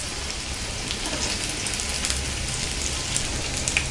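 A wheat vegetable roll fries in oil over a low flame, giving a steady, fine crackling sizzle throughout, close and continuous with small sharper pops, and no voices.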